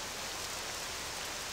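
Rain falling in the video game Octopath Traveler II, a dense, even hiss of steady rainfall at moderate volume with no voices over it.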